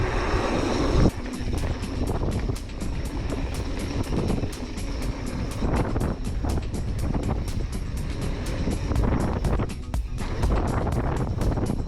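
Broadband wind roar buffets the microphone throughout a downhill mountain bike ride on Southern Utah double track and single track, heavy and continuous into a headwind, with rattling gusts and no talk.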